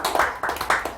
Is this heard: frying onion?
no